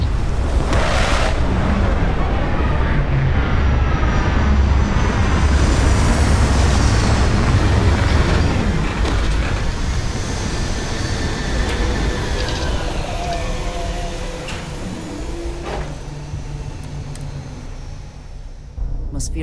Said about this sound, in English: Captain, landing procedure initiated.